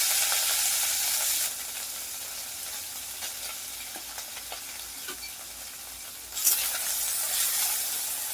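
Small chuno fish coated in turmeric frying in hot oil in a wok, a steady loud sizzle that settles after the fish go in, with occasional soft crackles and a brief louder burst near the end, no talk.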